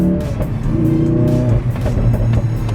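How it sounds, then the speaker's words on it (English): Tuned Ford Focus RS Mk3 engine running loud and close, with sustained revving and sharp transient pops or bangs breaking through the exhaust drone. "Pop some bangs."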